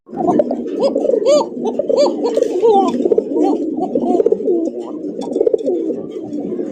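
Many pigeons cooing together in a continuous, overlapping chorus of throaty, rolling calls, close and fairly loud.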